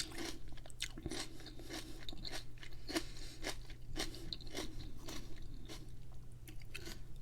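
Crisp, repeated crunching bites of a celery stick dipped in salty Buffalo Wild Wings wing sauce, chewed close to the mic in a steady run of sharp crunches over a low background hum.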